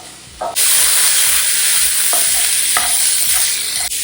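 Onions and tomatoes roasting in a pan for a Malayalam egg breakfast dish, a loud continuous sizzle that jumps up sharply after a quiet start, with a few faint stirring knocks underneath.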